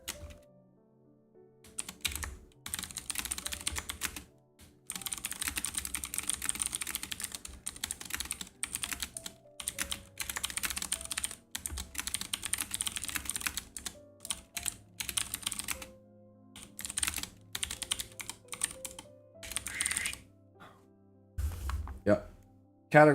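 Rapid computer keyboard typing with quick clustered keystrokes, sitting close and clear, pausing briefly between bursts and ending with a few louder knocks.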